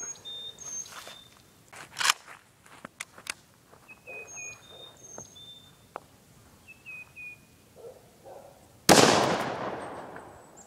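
A Nagant military rifle fires a single loud, sharp shot into a small laptop outdoors. It comes near the end, after a stretch of quiet outdoor ambience with birds chirping and light rustling, and a long rumbling decay follows.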